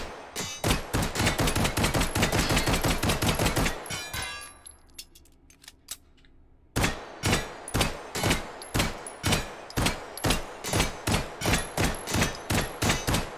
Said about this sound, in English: No challenge shooting them from this distance